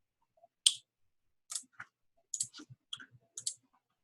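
Several sharp, close clicks of a computer mouse in quick irregular succession, including a small cluster near the end, each crisp and brief against near silence.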